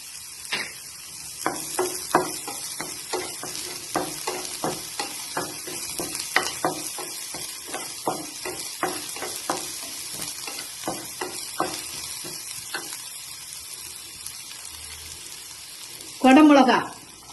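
Chopped onion sizzles in a hot pan while a spoon stirs it in a steady run of scraping clicks, with a short louder burst of sizzle near the end and faint talk in the room.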